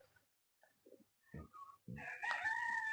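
Chickens cluck softly in short scattered calls, then a rooster crows loudly and close, no talking.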